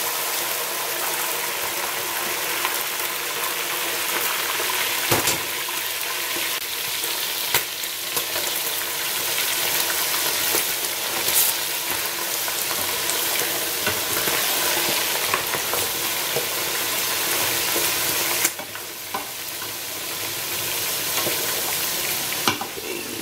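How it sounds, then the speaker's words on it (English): Chicken pieces deep-fry in hot oil in a big pot, sizzling and crackling continuously and loudly, with occasional sharper pops and a brief disturbance near the end. "I kind of like to deep fry my chicken."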